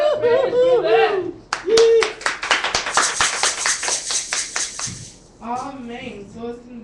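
Someone talking about her hair-care results breaks off to clap her hands in a quick run of sharp, close claps lasting a few seconds, with her speech before and after.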